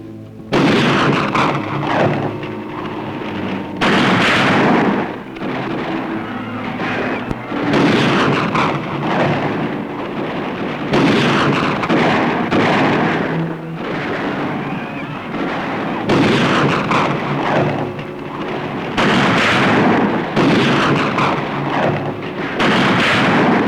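Heavy bursts of gunfire and booming blasts keep coming in dense, loud waves, with only short lulls between volleys.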